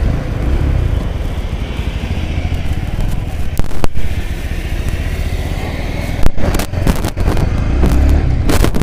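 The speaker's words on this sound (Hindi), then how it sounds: "चलिए अब हम इस बाइक के राइडिंग रिव्यू को देखते हैं कि ये बाइक चलने में कैसा लगता है" A 2023 Bajaj Pulsar NS160 with a 160cc engine being ridden, its engine droning loud and steady with wind buffeting and occasional sharp knocks and bumps, no talk.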